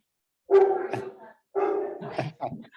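A dog barks in a hotel room: two or three loud, close barking bursts with short gaps between them, heard alone without talk.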